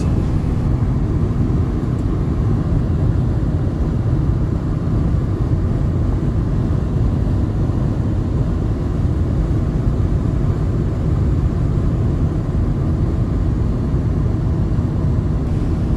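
A car cruising on a highway past a large construction site gives a continuous, loud low road and wind roar inside the cabin, steady throughout with no talking.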